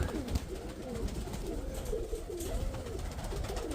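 A pigeon coos softly in repeated low, rolling phrases against a steady hiss of background noise, the calls faint and close together over several seconds.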